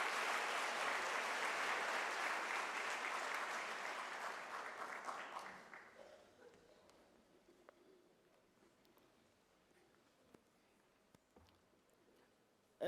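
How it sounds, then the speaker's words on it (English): Audience applause at a university autumn graduation ceremony in South Africa. A crowd claps steadily, then fades out over several seconds and leaves quiet room noise. "a round of applause for everyone"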